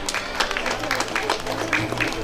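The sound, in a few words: audience applauding children at prize distribution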